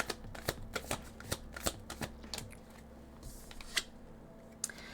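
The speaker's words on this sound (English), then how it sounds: "It was too sharp of a shuffle." A deck of cards being riffle-shuffled close up, a run of sharp flicking bursts and snaps, quiet and alone with no talking.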